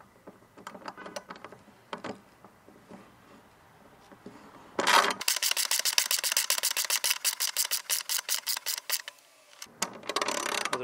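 A bolt with nuts used as spacers is fitted into a steel picnic table, giving a few scattered metallic clicks and then a long run of quick, regular ratcheting clicks, close and fairly loud.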